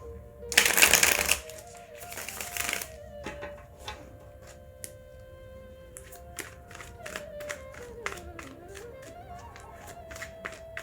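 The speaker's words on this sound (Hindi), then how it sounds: "सबसे पहले हम आपकी कार्ड शफल करते हैं" A deck of tarot cards being shuffled up close, with two loud riffling bursts at the start followed by softer, scattered flicks and taps under a faint background tone.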